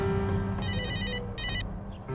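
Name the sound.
mobile phone ringtone ringing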